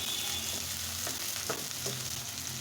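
Onions fry in hot oil in a pan for shing fish dopiaja, giving a dense, loud, continuous sizzle close up, with a few soft stirring scrapes and no speech.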